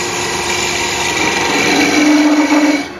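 A wood lathe spins while a tool makes small bevel-rubbing cuts on a turned wooden mouse, a steady high motor whine with a soft scraping hiss that swells slightly near the end before easing off.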